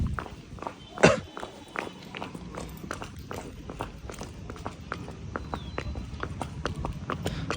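Horse hooves clip-clop at a walking pace on a farm, a steady run of close footfalls with one louder knock near the start over faint background noise.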